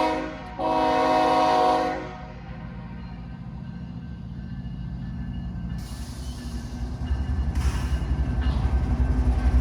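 KCS 4844, a northbound freight train, sounds a loud horn blast at the 8th Avenue crossing in Meridian, Mississippi, then a rising rumble of rolling wheels and cars as it heads onto the Artesia Subdivision.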